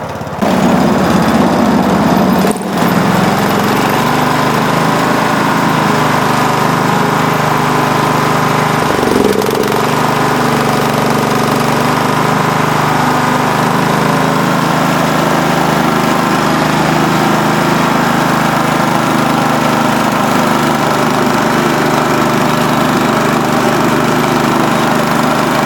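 Petrol lawn mower engine running on liquor as fuel with a little choke on, a loud close steady drone with slight wavering as it moves around a yard, no talking.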